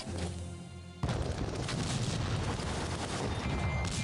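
Artillery fire in the World War I strategy game Strategic Command: World War I, a sudden jump at about one second into a dense, continuous rumble of booming barrage that carries on loudly to the end, with no voices.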